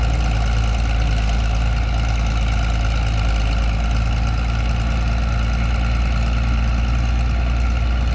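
Caterpillar D5B bulldozer pushing wet laterite soil, its diesel engine a loud, constant low rumble with steady mechanical throb, close and unbroken throughout with no speech.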